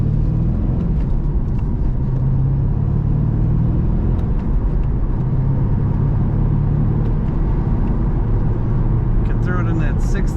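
2003 Chevrolet Corvette 50th Anniversary convertible accelerating, heard from inside the car as a loud, continuous low engine drone with a steady road rumble throughout.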